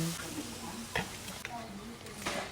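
A spoon or spatula scrapes and taps through half-cooked potatoes and carrots in a cooking pan, a few light knocks over a low sizzle, with a voice talking faintly in the background.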